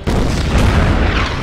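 A mortar round fired at a tank in the Winter War strategy game Order of Battle lands as one deep, loud boom that rumbles on without a break for the whole moment, with no voices over it.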